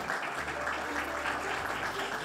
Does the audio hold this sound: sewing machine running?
no